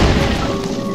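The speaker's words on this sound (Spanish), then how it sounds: "se escuchó como una pinche explosión esa manera" A sustained, dense blast rumble from an explosion in The Legend of Zelda: Skyward Sword, loud and continuous for the whole second with no break or speech.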